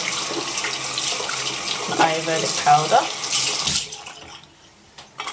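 Water runs from a tap to rinse Ayurvedic powder paste out of braided hair, a steady close splashing stream with gurgling as it breaks over the hair, and someone speaks briefly before it trails off.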